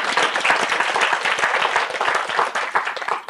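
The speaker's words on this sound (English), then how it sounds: "Let's give them a round of applause" An audience at an educators' session on teaching freedom breaks into a round of applause, dense, steady clapping filling the room at close range for the whole stretch, with no voices above it.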